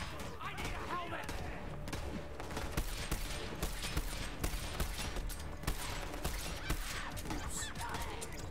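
Rapid bursts of gunfire from the shooter game Borderlands 3, dense crackling volleys repeating across the whole stretch at a fairly quiet level, with a voice speaking at times underneath.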